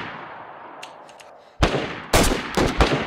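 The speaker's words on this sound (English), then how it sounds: "He dropped the second I shot." Sniper rifle shots in the video game DayZ, with a loud sharp report at about 1.6 s followed by further loud gunshot blasts, heard alone after a quiet, faintly noisy lead-in.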